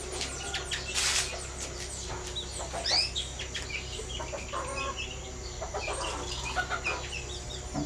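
Chickens and chicks on a farm cluck and cheep in a continuous nearby chorus, with scattered higher peeps over a steady background hum.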